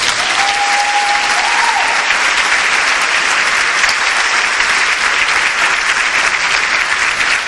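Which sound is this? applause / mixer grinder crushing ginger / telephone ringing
applause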